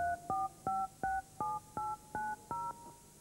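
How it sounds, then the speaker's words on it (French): Telephone keypad tones sound in sequence, about eight short two-note dual-tone beeps at an even, brisk rhythm, clean and alone without speech. "À chaque fois que vous appuyez sur une des touches de votre téléphone, chaque touche émet un son, une note."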